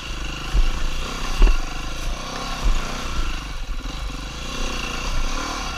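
A 4-stroke dirt bike runs along forest single track, its engine rising and falling with throttle blips and revs, fairly close and uneven over the rough trail.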